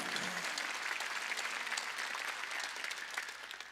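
A church congregation claps hands together in steady, continuous applause that holds for several seconds at a moderate distance.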